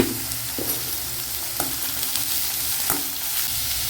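Onions sautéing in a pan for potato bonda masala, a steady broad sizzle throughout with a few soft stirring scrapes and clicks at intervals, close and fairly loud, no talk.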